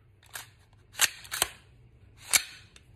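A loaded .56 AR pistol with a Yankee Hill muzzle brake compensator is cleared, giving four sharp metallic clacks and snaps of the action being worked, close by in a quiet room.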